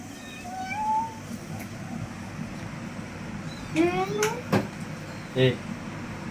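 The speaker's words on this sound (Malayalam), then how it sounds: "വീടിൻ്റെ അകത്ത് കുറെ കുഞ്ഞു പൂച്ച" Several kittens meow inside a house, a drawn-out cry early on and a quick cluster of high meows later, with soft room noise between and no clear talking.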